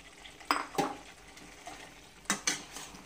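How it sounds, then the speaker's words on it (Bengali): Chicken is stirred into spice masala in a pan for a chicken and potato curry, with a few soft scrapes and knocks of a spoon against the pan and a faint sizzle, close and quiet, with no talk. "2-1 নাড়াচাড়া করে চিকেনটাকে এর মধ্যে দিয়ে দিচ্ছি"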